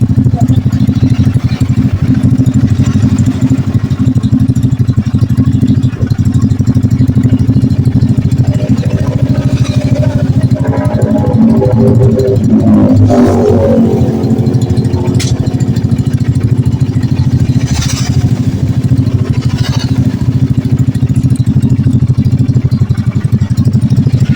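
A motorcycle engine with a damaged cam chain runs steadily throughout at close range, a loud continuous idle with mechanical clatter and no pauses.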